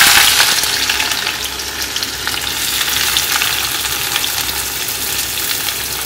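Sliced onions frying in hot oil, a loud steady crackling sizzle that runs unbroken from start to finish, close up with no talking.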